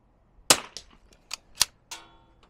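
Rifle shots ring out at a KYL steel target rack set 50 yards away: two sharp cracks, each followed by fainter metallic pings and a short ringing tail, with no talking.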